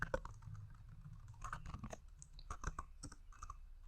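Keys clacking on a computer keyboard while an email address is entered, with irregular bursts of close, fairly quiet taps and brief pauses between runs.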